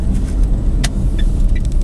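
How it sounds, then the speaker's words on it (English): A Citroen C-Zero electric car slows under regenerative braking, heard from inside as a steady road rumble with faint high whines and no voices. "The regenerative braking is slowing me up."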